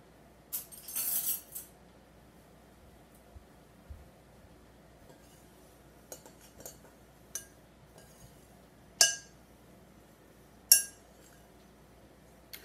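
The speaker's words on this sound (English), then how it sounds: "I'm going to grab a spoon so that I can start stirring this up" A spoon stirs oatmeal and coconut in a bowl for peanut butter energy bites, giving sparse, sharp clinks against the bowl at irregular intervals. The sound is close and fairly quiet over a low room background.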